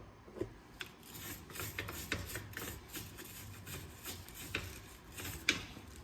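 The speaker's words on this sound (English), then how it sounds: "I'm just going to use wire brush real lightly to scrape any rust off the kind of the seam there between this hub" Wire brush lightly scraping rust from the seam between the hub and rear brake drum on a 1996 Chevy Cavalier, giving soft close rasping strokes with a few sharper scratches, quiet throughout.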